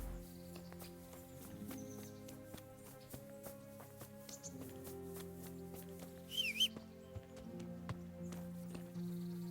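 Horse hooves clip-clopping in a medieval video game, a quiet, regular patter of hoofbeats over a soft steady musical hum.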